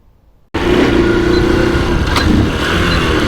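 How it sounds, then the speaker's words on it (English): A Honda C90 motorcycle engine starts abruptly from near silence and settles into a loud, steady running idle close by, with no talking. "You'll see the bike starting and all that when I go for the ride along video"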